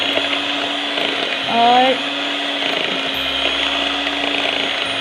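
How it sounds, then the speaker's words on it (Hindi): An electric mixer beats cake batter for a cappuccino loaf cake, a steady whirring hum running throughout with a brief louder surge in the middle as the beaters shift, and a single spoken word near the start. "ये अब हम दोबारा से इसको मिक्स करते हैं। जितना अच्छा बीट होगा उतना ही हमारा केक सॉफ्ट बनेगा।"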